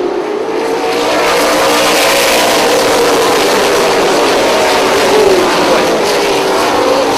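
Late model stock cars roaring around a short oval track just after the green flag, a dense, loud continuous engine drone with shifting pitch as the pack accelerates, no talk.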